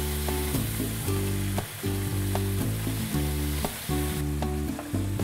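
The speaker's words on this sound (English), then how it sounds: "All right, so I'm going to add the beef to the pan" Beef sizzling in coconut oil in a hot pan, a broad hissing fry carried under loud rhythmic music with a heavy bassline that nearly covers it.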